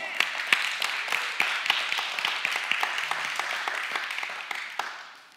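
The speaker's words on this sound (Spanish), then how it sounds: "Dele un aplauso al Señor." Congregation applause during a church sermon, a continuous crackle of many hands clapping at moderate distance, steady then fading at the close.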